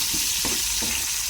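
Onion fries in a pan for chicken arroz caldo, giving a short burst of close, steady sizzling with a few soft stirring touches.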